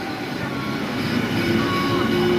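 A Mexico City metro train rumbles steadily nearby, its low drone gradually growing louder, with a faint tonal whine rising near the end.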